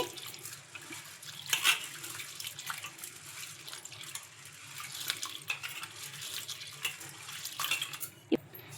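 Water sloshes and trickles as black gram lentils are swirled and rinsed in a bowl, with soft splashes and drips, close and fairly quiet.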